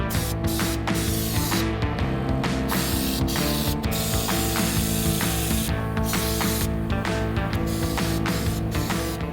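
Air compressor spraying air, a continuous hiss with a steady droning hum underneath and repeated short bursts and clicks, close and loud throughout.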